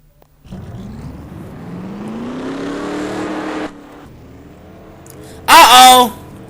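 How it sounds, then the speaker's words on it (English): A NASCAR stock car engine in a SEGA racing game turns over and builds to a rising whine for several seconds, then drops off before a short, loud burst near the end. "the drivers have fired up their cars"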